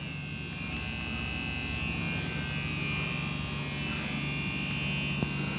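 A large department store elevator at Carson Pirie Scott in Ford City Mall, running with a steady electric buzz and motor hum, close and constant, with one faint click near the end.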